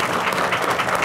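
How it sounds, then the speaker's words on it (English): An audience applauds steadily at a Go Red for Women lunch-and-learn event, dense clapping from many hands filling the room without a break, loud and close, with no talk over it. "Let's give him another round of applause"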